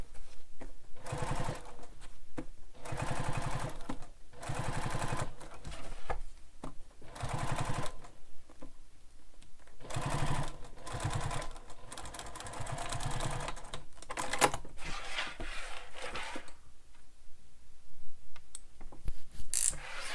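A sewing machine top-stitches a fabric bag in repeated bursts of rapid mechanical whirring separated by short pauses, close and fairly quiet, with a few faint handling clicks between runs.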